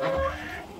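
Hens cluck in a henhouse while being fed mixed barley and wheat, giving a short, close, steady burst of clucking.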